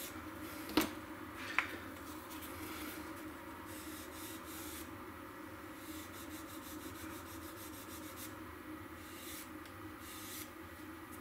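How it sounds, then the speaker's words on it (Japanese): Sandpaper on a wooden backing block rubbing a 1/16 scale Tamiya Jagdpanther RC tank model part, a steady soft scraping hiss throughout with two sharp ticks near the start. "サンドペーパーを当て木したものでこうさらに削ってあげればきれいに"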